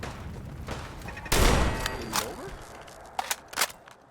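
Weapon fire in the video game Fallout 4, played with the Sim Settlements 2 mod. A few sharp gunshot bursts stand out over game ambience, one loud volley followed by smaller scattered shots.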